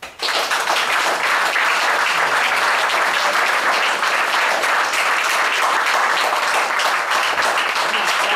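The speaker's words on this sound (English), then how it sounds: "I want you to applaud loud and hearty." A live audience applauds loud and hearty at an evening show, dense continuous clapping filling the room at a steady, full level from start to finish.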